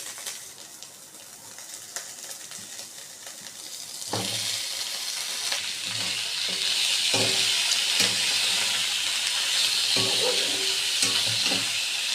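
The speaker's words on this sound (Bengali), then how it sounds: "এবার কড়াইতে ঘি দিয়ে এগুলোকে একটু ভাজবো।" Whole spices fry in ghee in a wok: a quieter hiss swells abruptly into a louder, sustained sizzle, with periodic stirring scrapes and taps nearby and no speech.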